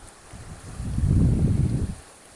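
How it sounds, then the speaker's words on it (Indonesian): A north wind gusts past on the coast of Taliabu Island, Indonesia, a low rumbling rush that swells in the middle and fades, with faint wave noise beneath. "Ini suasana dikala angin utara sedang berhembus."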